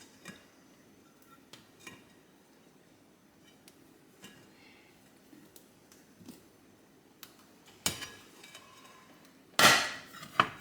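A chocoflan cake, cooled for about three hours, is flipped out of its pan, giving a few faint kitchen clinks early on, then a sharp clatter and a louder scraping thud of the pan near the end.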